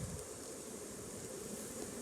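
Mixed-breed honeybees buzzing around an open hive during an inspection, a steady, faint, continuous drone with no pauses or voices, like a swarm milling close by.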